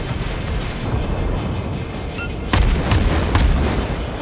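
Naval guns fire in the World of Warships video game, a destroyer engagement, with two sharp booming salvos standing out over a steady low rumble of engine and ocean ambience.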